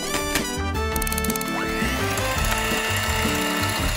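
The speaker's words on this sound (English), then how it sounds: "Start by grinding up some cookies in a blender." A blender grinds cookies loudly with rattling, ratcheting chatter as chunks break up, continuous and close for a few seconds.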